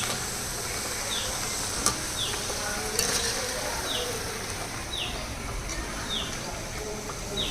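Spinach pakoda frying in hot oil, a steady broad sizzle and crackle with occasional sharper pops, heard close alongside repeated faint chirps in the background.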